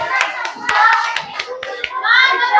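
Hands clap in quick, uneven bursts in a classroom, with children's voices mixed in throughout.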